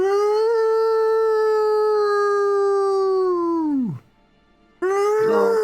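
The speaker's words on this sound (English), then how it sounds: "The howling of wolves." A wolf pack's howl rises clear and loud, holding a long, sustained tone before sliding sharply downward. After a brief silence, another howl starts up.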